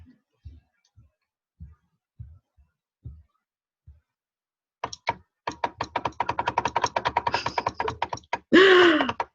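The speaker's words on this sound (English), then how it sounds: "I keep clicking and nothing is happening" A computer mouse and keyboard in a home setting: several slow, soft single clicks, then a rapid burst of dense clicking and tapping, ending in a brief louder rustle, close and fairly quiet.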